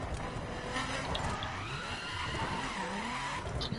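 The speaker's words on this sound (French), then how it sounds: "je suis obligé de freiner et en plus de ça appuyer sur le frein à main pour pouvoir drifter" A car drifting in The Crew video game, its tires squealing in a long continuous skid with engine noise underneath, loud and close, no talking.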